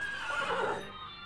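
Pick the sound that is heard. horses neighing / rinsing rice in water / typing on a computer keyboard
horses neighing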